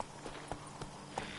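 Horse hooves clip-clop at a steady walking gait in The Witcher 3 as the rider urges the mount on, with three or four distinct, moderately faint footfalls over a low ambient game backdrop.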